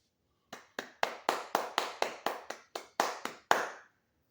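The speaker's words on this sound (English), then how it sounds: "Mr. Roloff got to hit them with that proper slash fancy hand clap." About a dozen crisp hand claps ring out one at a time in a quick, slightly uneven sequence, close and sharp, with the last clap loudest; no voices.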